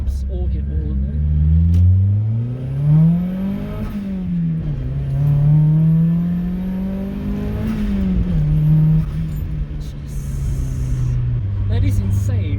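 Turbocharged 200whp Mazda Miata engine revving while driving, a loud continuous drone that rises and falls in pitch with throttle changes across the whole stretch, with a person talking over it at times.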